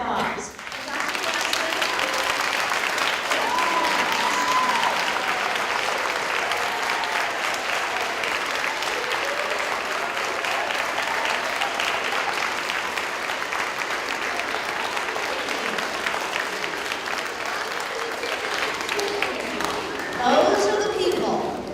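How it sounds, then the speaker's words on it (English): A school assembly gives a sustained round of applause for teachers and staff, dense clapping from a large crowd that holds steady for about twenty seconds before a brief swell and fade near the end. "Could all the teachers and staff stand for a round of applause?"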